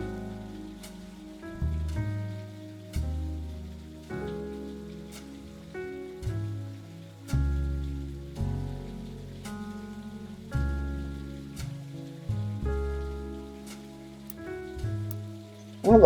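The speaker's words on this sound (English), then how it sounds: "It's actually making rain noises." Rain in the video game The Roottrees are Dead, a soft, steady patter at low volume beneath slow, gentle musical notes, with no talking.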